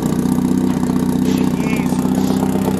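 A Porsche 930 Turbo engine idles with a steady, loud rumble and rough mechanical clatter, holding a constant low drone throughout without clear revving.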